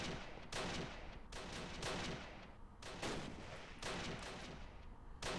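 Repeated bursts of gunfire crackle in the war video game Close Combat Last Stand Arnhem, fairly faint and distant, coming in several broken volleys with short gaps between them.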